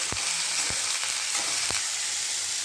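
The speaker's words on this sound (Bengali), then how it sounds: "আলুটাও দিয়ে দিলাম পেঁয়াজ রসুনের সাথে। এবার একসাথে করে এগুলো ভাজা ভাজা করে নেব" Diced potatoes frying together with onion and garlic in a pan, giving a loud, dense sizzle throughout, with a few sharp utensil clicks against the pan nearby.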